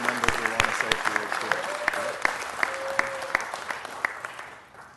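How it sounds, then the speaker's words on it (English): Audience applause at a city council meeting honoring a bishop, a dense patter of clapping with sharp individual claps standing out, fairly close and sustained before tapering off at the end, with some voices mixed in. "Let's give the bishop a round of applause."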